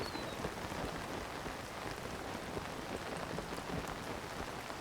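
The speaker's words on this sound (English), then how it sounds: "So, it's perpetually raining here." Steady rain falls in The Legend of Zelda: Tears of the Kingdom, a constant hissing patter of drops striking surfaces that stays even and moderately loud with no voices.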